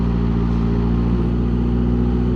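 A Kawasaki Ninja H2 motorcycle rolls through town with its engine holding a steady, even hum at moderate loudness, a constant low harmonic drone without revving spikes and no talking over it.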